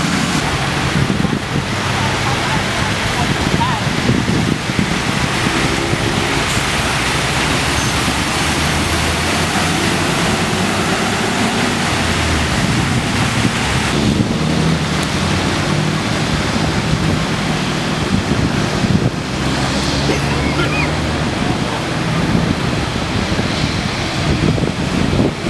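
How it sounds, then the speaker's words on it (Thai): Strong storm wind roaring on a motorway, with a continuous loud rush of buffeting air and broadband noise that swells and eases slightly throughout, close and steady with no talk. "ลมแรงกันนะ"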